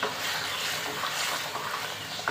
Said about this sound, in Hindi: अब इसकी अच्छी तरह भुनाई करेंगे।